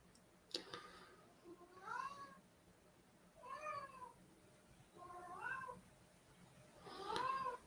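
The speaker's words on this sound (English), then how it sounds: "Is that your cat?" A cat meows indoors four times, evenly spaced, each call clear and fairly close against a quiet room background.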